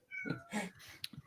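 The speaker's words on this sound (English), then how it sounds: "Sorry, that's my cat." A house cat meows at home, a short run of two or three quick, fairly close meows lasting barely more than a second, alone without talk.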